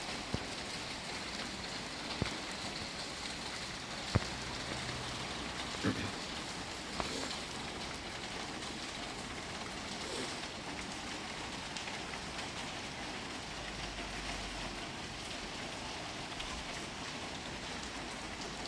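Steady rain patters on a surface, a continuous hiss with a few sharper drops and knocks, no voices.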